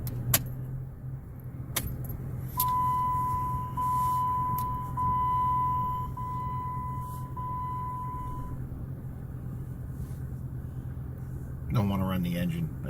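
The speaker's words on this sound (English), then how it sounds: "Don't want to run the engine. I just realized I was still running it." A parked car's engine idles as a steady low hum throughout, with a sustained tone in the middle, a jangle of keys near the end, and someone talking over it.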